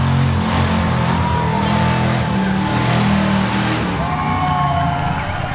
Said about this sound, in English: They're just frying the tires.